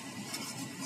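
A spoon stirs chicken cream penne sauce in a pan, giving a soft, steady scraping and swishing texture over a faint simmer for about a second.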